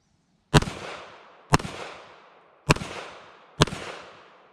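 Four sharp, loud pistol shots from a Kel Tec PMR 30 fired at steel targets in an indoor range, evenly spaced about a second apart, each with a short echoing decay.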